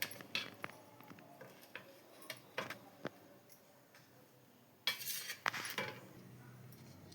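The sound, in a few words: knife cutting cooled kothimbir vadi pieces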